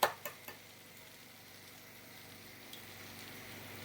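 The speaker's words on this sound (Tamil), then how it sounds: "இப்போ 2 முட்டையை உடச்சி ஊற்றணும்" Eggs poured into a pan of frying okra and onions, a few sharp taps at the start followed by a soft, steady sizzle that carries on faintly to the end.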